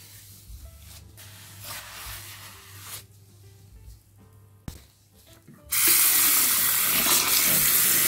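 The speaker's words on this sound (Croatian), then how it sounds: "a zatim sve isperite sa vrućom vodom." Hot water runs from a kitchen tap, rinsing off a cleaning paste that was left on the faucet. At first the flow is softer and uneven, then it turns into a loud, steady full gush that lasts to the end. No one speaks.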